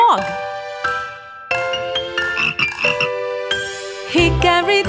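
A cartoon frog croaks in a Hickory Dickory Dock sing-along nursery rhyme for kids, with the croaks set among steady chiming, tinkling music tones throughout.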